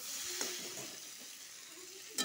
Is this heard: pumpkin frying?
yes